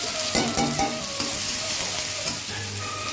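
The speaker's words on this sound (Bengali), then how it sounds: "একটু সর্ষের তেল দিয়ে দিচ্ছি, একটু কালো জিরে দিচ্ছি, একটু থেতো করা রসুন দিচ্ছি, আর একটু পেঁয়াজ কুচি দিচ্ছি" Garlic, onion, green and dry chillies and black cumin fry loudly in mustard oil, a steady close sizzle with soft scraping and knocking from stirring running through it.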